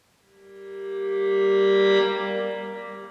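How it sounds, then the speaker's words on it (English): A reversed piano chord swells up gradually from silence, growing louder and brighter with a smeared, echoing tail before cutting off. "we have a reverse like piano sound here that just kind of is a swell"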